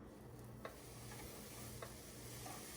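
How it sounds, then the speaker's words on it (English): Ribeye steak sizzling on a Philips smoke-less indoor grill, a faint steady crackling hiss with a low hum underneath and a few soft clicks. "Nice sizzle."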